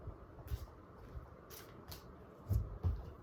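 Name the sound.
shuffling tarot cards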